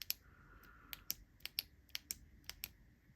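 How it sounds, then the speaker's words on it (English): An Olight flashlight's switch clicks about a dozen times in quick, uneven succession, each click sharp, close and fairly quiet, with no voices. "So click on, click off, click on for your 250"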